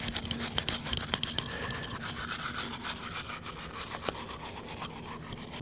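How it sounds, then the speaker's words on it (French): Stiff brush scrubbing moss and organic residue off a low garden wall before painting, rapid rhythmic close-up scratching strokes, fairly quiet. "je vais utiliser une brosse comme ça pour enlever ces petites parties organiques que je ne veux pas retrouver sous ma peinture"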